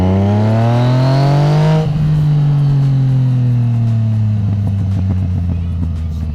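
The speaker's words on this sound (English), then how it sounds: "Yes, the exhaust." A Yamaha MT-09 Tracer (FJ-09) motorcycle engine revving high close by, then dropping into a deep rumbling idle with popping exhaust burbles.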